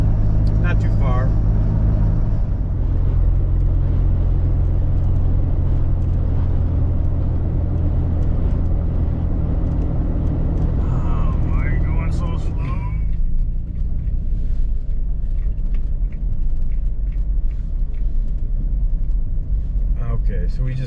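A car climbs a paved mountain road south of Tucson, its engine and tyres making a loud, continuous rumble that eases partway through, with occasional light rattles.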